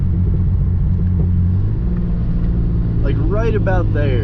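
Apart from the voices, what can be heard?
Genesis Coupe 3.8 with ARK downpipes revving, rattling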